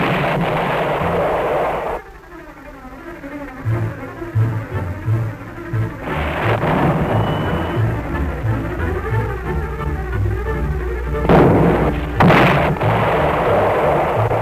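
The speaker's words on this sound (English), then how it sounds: "A shell is fired for range." A military artillery shell fired for range during cavalry regiment training rings out as a heavy boom, with a dull rumbling roar that swells and recedes over the following seconds.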